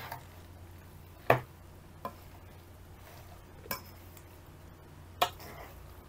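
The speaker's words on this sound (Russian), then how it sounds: "Размешиваю." A spoon stirs zucchini flatbread batter in a bowl, giving a few sharp, separate clinks against the bowl over a quiet background, with no voices.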